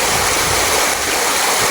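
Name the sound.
stream water flowing above a waterfall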